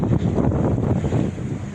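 Following wind rushing over the microphone aboard a sailboat running under genoa alone off Cap Creus, a close, continuous low buffeting roar with a faint wash of water beneath.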